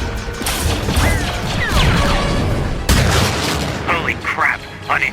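Blaster fire crackles through a Clone Wars battle, with loud repeated bursts and impacts layered under shouted voices and chaotic combat noise.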